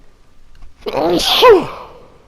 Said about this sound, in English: I'm sneezing while I'm recording.